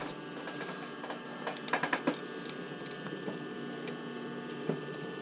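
A sewing machine runs a zigzag stitch onto a swimsuit band, giving a soft, quick mechanical patter with a few louder ticking bursts, close and fairly quiet against a faint steady hum.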